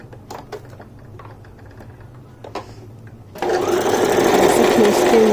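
After a few soft clicks and fabric handling noises, a sewing machine starts up and runs continuously, loud and close, stitching elastic onto a palazzo pant waistband.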